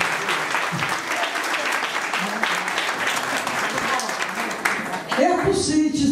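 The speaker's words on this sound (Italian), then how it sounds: "Un applauso a Maria." An audience at a Women's Day celebration applauds continuously, with sharp individual claps in a dense wash, while voices murmur underneath and a louder voice breaks in near the end.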